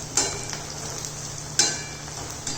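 Gobi manchurian deep-frying in plenty of oil in a pan gives a steady low sizzle, with a few sharper bursts and stirring clinks near the start and middle, close by and with no voices.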